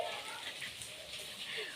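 Steady rain patters on a surface on a rainy day at home, a soft continuous hiss with scattered drops heard alone.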